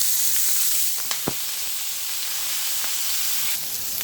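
Onion browning in a pan with leftover flour gives a continuous, fairly loud hissing sizzle, broken by a few sharp spoon taps and scrapes as it is stirred.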